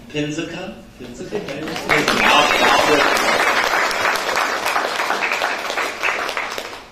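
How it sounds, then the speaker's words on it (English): An audience at a college board of regents meeting applauds an award recipient, a dense burst of clapping that rises after a spoken name and holds steadily, with a voice heard at the start. "we will applaud as appropriate"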